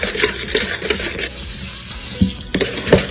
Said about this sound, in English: Whisk all of that together.